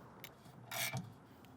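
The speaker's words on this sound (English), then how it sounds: "we're going to grab a socket and wrench. We're going to put that wrench up top" A socket wrench works a bolt on a trailer scissor stabilizer jack, giving a brief mechanical ratcheting rasp near the mic, one short burst amid quiet.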